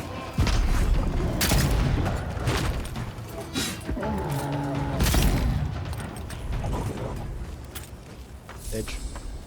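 Gunfire and booming impacts from a fantasy action game battle, several bursts and thuds spread through the scene, mixed with music and effects while people talk over it throughout.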